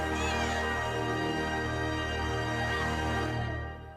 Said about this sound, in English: the cat says meow